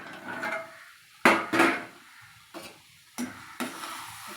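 A spoon stirs mango pachadi in a cooking pot. There are several close, distinct scraping strokes with short quiet pauses between them.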